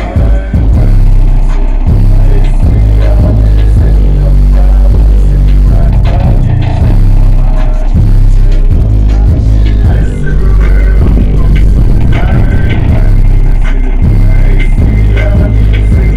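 Sundown Audio E8v3 subwoofer pushing a heavy, sustained low bass note in a room with a flexing back wall, loud and continuous with rattling buzz over the deep throb, no talking.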